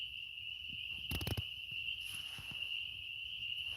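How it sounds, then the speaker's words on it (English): Spring peeper frogs call outside a log barn in February, a steady high-pitched chorus of faint, distant peeps with a brief louder burst of clicks partway through, with no talking. "I'm accompanied by a live accompaniment of peeper frogs."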